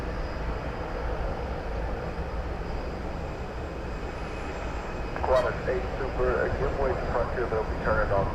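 Airplane at Dallas/Fort Worth airport, a steady broad engine roar that holds throughout and swells slightly louder near the end, heard from a distance with faint outdoor noise.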